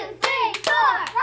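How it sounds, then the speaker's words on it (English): A few sharp hand claps ring out during a Simon Says game with children, spaced irregularly, with a voice and tonal sounds running between them. "Simon says, clap your hands 4 times."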